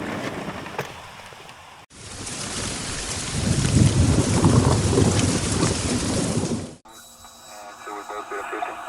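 A rain shower heard from an aircraft cockpit after a morning flight, steady loud hiss of rain and rumbling for several seconds between stretches of radio-like noise, with people talking nearby.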